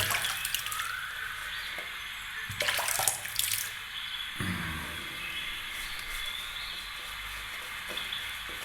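Water runs from a tap as shaving lather is worked up, a steady close hiss with a few splashy bursts and clatters partway through.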